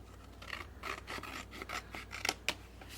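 Paper being trimmed for a craft scrap project, a series of short rasping cuts or snips at close range, repeated irregularly over a few seconds.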